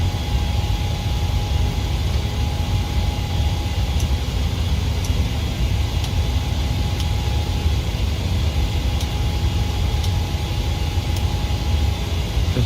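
Steady, loud engine drone and airflow hiss of a PMDG 737-800 BBJ2 climbing after takeoff in Microsoft Flight Simulator 2020, continuous and unchanging, with faint periodic clicks on top.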